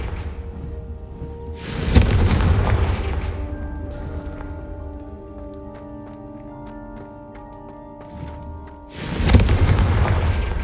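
Deep booming blasts of the Confringo fire spell in the Hogwarts Legacy video game, two heavy explosions several seconds apart with a ringing, tonal magical tail between them.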